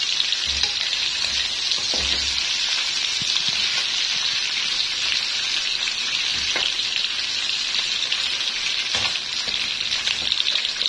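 Garlic, onion and pork sauté for adobo made with Coca-Cola, a loud, unbroken close-up sizzle with a few soft stirring knocks, no voices.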